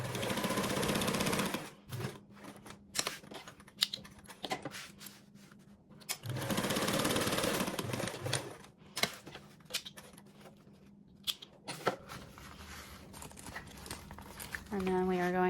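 A sewing machine bastes the two sides of a sewing pattern together in several bursts of rapid stitching, each a few seconds long, separated by quieter pauses with handling and fabric rustle.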